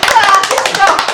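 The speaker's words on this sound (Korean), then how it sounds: "네, 박수." A short burst of brisk hand clapping from a small group gathered indoors, quick overlapping claps filling the whole moment, loud and close.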